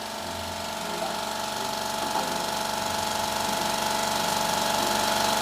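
Carbide tool cutting into a spinning chameleon-and-holographic-epoxy-resin shaving brush blank on a wood lathe, a steady whirring drone with a constant pitch and faint scraping, close and even throughout.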